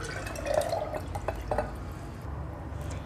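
Whisked yogurt poured into a jug, a soft wet trickle and drip with slight splashing that keeps going steadily for about three seconds, close and fairly quiet.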